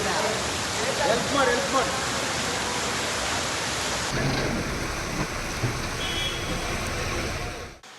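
Heavy summer rain pours steadily in a dense, hissing wash, with a low rumble of thunder mixed in; a voice talks faintly underneath. Recorded in Kasaragod and Kannur, Kerala.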